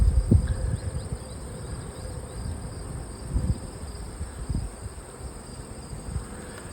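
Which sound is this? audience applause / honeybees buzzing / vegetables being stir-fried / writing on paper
honeybees buzzing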